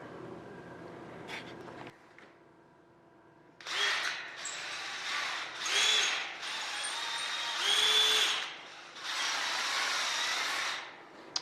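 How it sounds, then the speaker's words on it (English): A power drill bores bolt holes through the front of a Bearhawk experimental airplane's horizontal stabilizer tube. A quiet hum comes first, then several whining drill bursts of a few seconds each, close and loud, separated by short pauses. "I'm going to go ahead and drill and"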